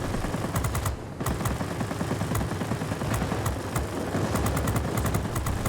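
Aircraft machine gun fire in World of Warplanes from a P-80A: dense, rapid bursts of gunfire over a constant engine drone, loud and continuous with a brief pause, without speech.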